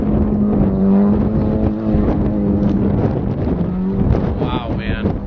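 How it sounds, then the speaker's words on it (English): A car driven hard through corners, engine droning with a steady low tone and rising revs, tyres scrubbing and squealing briefly near the end, loud and close throughout. "I've never driven this car like this before"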